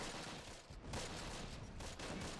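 In the Close Combat wartime strategy game, machine guns rattle in dense, continuous bursts that sound fairly distant and fill the whole short moment without any speech.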